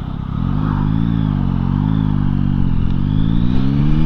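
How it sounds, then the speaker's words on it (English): A Yamaha Tracer 9 motorcycle engine hums loud and close while riding, its note rising and dipping slightly with gear changes and the auto blipper. "I love the auto blipper as well that it's got as you change down a gear"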